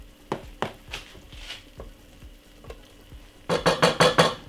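A spoon stirs a roux for a homemade white cheese sauce in a pan, giving soft scraping strokes and light sizzling that build into a quicker, louder burst of stirring near the end.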